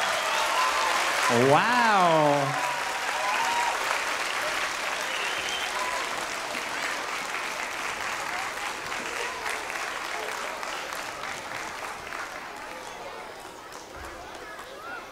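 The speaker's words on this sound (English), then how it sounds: "Can we please give another big clap for our grade three" Sustained audience applause at an elementary school music concert for grade three musicians at International School Manila, loud at first and continuing steadily with a brief exclaimed voice early on.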